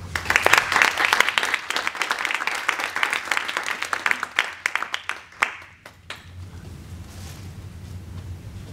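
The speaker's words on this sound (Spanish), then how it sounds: "les pido un fuerte aplauso" An audience at an art, poetry and performance event applauds in a strong burst of clapping that gradually thins and dies away after about six seconds, leaving a low room rumble.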